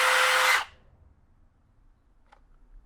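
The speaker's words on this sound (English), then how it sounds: "And just like that, the drill cuts off." A Kobalt 24V right angle drill whines loudly at close range for about half a second, then cuts off abruptly, followed by near silence and one faint click.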